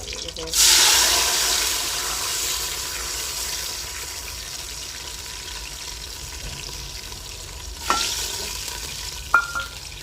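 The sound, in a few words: water added to sizzling cumin, stirring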